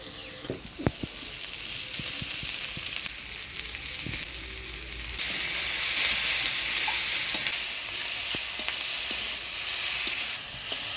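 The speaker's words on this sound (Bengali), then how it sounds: "লঙ্কা পেঁয়াজের সাথে আলুটা আমি ভাজা ভাজা করে নিলাম" Potatoes fry in oil with green chili, onion and nigella seed in a village kitchen, sizzling in a steady close hiss with occasional spoon taps, the sizzle swelling louder partway through as the pan is stirred.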